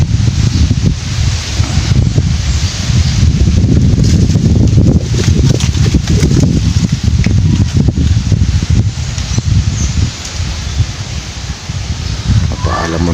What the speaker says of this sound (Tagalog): Malakas ang hangin, mga Papski.